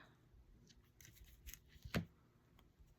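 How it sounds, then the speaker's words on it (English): Scissors snip through paper, cutting it in half: a few quiet close snips, then one sharp, louder cut near the end, with no talking. "we'll just cut that in half"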